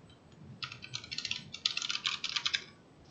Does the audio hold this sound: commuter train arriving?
no